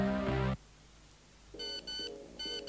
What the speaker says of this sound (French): Fais sonner tes SMS avec une mini-sonnerie originale.